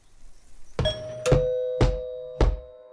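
A doorbell rings at a front door: four sharp struck chimes, each with a sustained ringing tone, spaced about half a second apart. They are loud and close, with nothing else heard.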